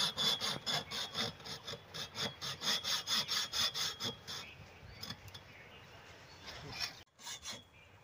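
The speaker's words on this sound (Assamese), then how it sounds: "থ্ৰেডটো মানে বেছি ডাঙৰ হৈ গ'ল, সেইটো কাৰণে কাটিব লগা হৈছে।" A hand tool cuts thread on a pipe while a hand pump is fitted at a newly bored well, giving a brisk rhythmic rasping of about a dozen close strokes that trails into scattered scrapes and taps.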